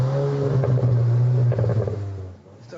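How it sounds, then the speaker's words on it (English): A 2022 Volkswagen Arteon R's 320-horsepower engine hums with a deep quad-exhaust note that swells briefly, then fades away as the car moves off. "the quad exhausts producing the kind of exhaust note you want to hear"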